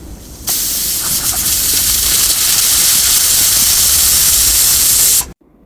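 A pressure cooker holding cabbage pieces cooked in water vents steam in a loud, steady hiss that runs unbroken for about five seconds, then cuts off abruptly.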